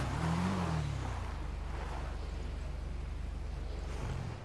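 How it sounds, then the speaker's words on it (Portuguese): Motorcycle engine in GTA V on PC climbing uphill, a steady low drone with a brief rev and pitch rise at the start, then an even, rhythmic throb that holds loud and close before easing at the end. "Vou subir aqui, subir de moto mesmo."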